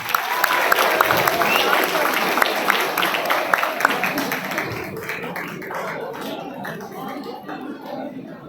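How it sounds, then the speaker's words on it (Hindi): Audience applause at St Xavier's College of Management & Technology fest event: dense clapping fills the first half, then thins into scattered claps and crowd murmur. "तालियों की गड़गड़ाहट थमनी नहीं चाहिए"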